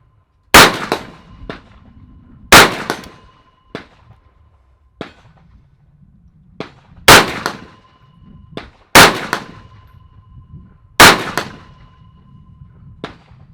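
Sharp rifle shots from a Double Star STAR-10B fire at a steady, unhurried pace, each crack followed by a ringing metallic clang as rounds strike steel targets downrange. Several spaced shots stand alone in otherwise quiet outdoor air.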